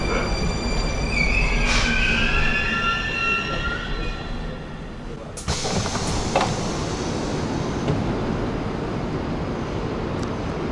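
A train at Izmailovo station on the Moscow Central Circle, loud close rumble of cars with high screeching wheel squeals, a few sharp clanks partway through, and continuous rolling noise throughout.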